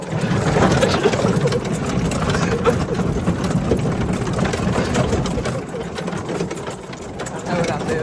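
A 2025 E-Z-GO Defender utility vehicle drives during a durability test, its mid-pitched engine droning steadily and fairly close with bumpy rattling, while people talk over it.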